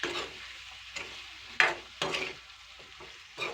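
Fried green bell peppers (dhabu mirchi) stirred in a pan over low gas, a few scraping strokes and clinks against a soft background sizzle.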